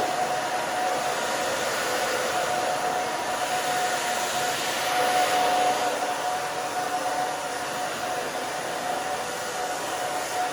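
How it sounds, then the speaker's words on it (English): A hair dryer blows steadily while drying a short bob haircut, a constant whooshing roar with a faint high whine, close and unbroken for the whole stretch with no talking. "So you can tell I'm just kind of drying that down"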